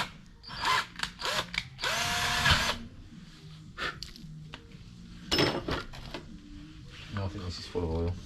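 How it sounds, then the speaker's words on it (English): Short bursts of a power drill whining at close range as it drills through plastic on a Land Rover Evoque's rear differential, interspersed with clicks, handling noises and brief talk. "I don't need to just pop a drill through there and then pop it out."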